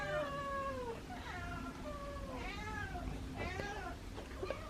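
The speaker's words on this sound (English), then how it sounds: "I've been hearing a lot of meowing in here" Several cats meowing close by indoors, a run of drawn-out, rising and falling meows overlapping one another, loud and continuous.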